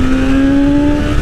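A 2020 BMW S1000RR motorcycle with an ECU flash roars loud and close from its exhaust, a steady strong engine tone with a clear pitch that climbs slightly across a short burst.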